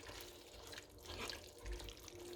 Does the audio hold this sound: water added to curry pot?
yes